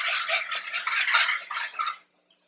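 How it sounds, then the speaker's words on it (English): Salad dressing with added sugar is whisked or stirred in a bowl for Burrata and persimmon salad, a quick close scraping and swishing for about two seconds, then stopping abruptly into near silence. "mix that again"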